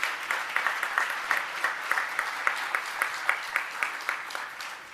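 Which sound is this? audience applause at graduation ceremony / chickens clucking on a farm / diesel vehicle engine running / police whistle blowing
audience applause at graduation ceremony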